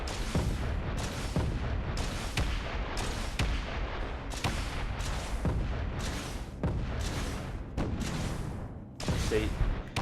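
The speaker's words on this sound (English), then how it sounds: "there is a moment where you can actually see the missile, and this does, you know, smash through asteroids as well" Repeated heavy missile launches and impacts blasting through an asteroid in Space Engineers, loud booming bursts roughly every second over a dense continuous rumble.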